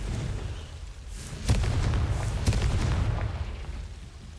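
Confringo blasting spells exploding in Hogwarts Legacy, a few sharp booming bursts about a second apart over a rumbling low background, loud and close, with no talking.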